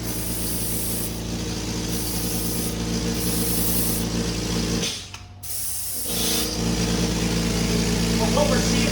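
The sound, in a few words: Graco FinishPro II 395 air-assisted paint sprayer spraying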